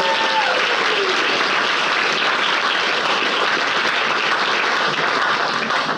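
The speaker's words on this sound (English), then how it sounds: "Give them a great round of applause" Sustained applause from a sizable audience, steady and loud throughout, with no voices standing out.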